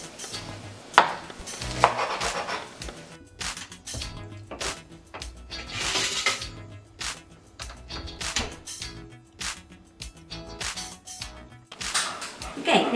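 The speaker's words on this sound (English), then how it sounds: "we're going to cut our spinach so that it's easier to eat on top of our pizza" Knife chopping spinach on a board in a home kitchen, a run of quick, close, sharp taps in irregular bursts throughout with occasional louder knocks.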